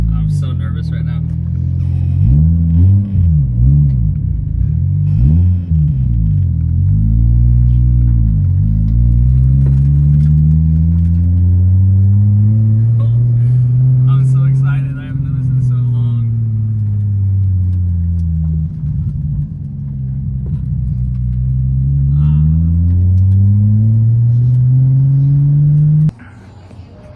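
A Toyota Supra engine runs after a new tune, a loud close idle with repeated revs rising and falling in slow sweeps, rumbling steadily before cutting off at the end.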